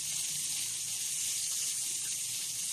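Margarine sizzling in a hot pan (kawali), a steady, even hiss that holds at the same level without a break.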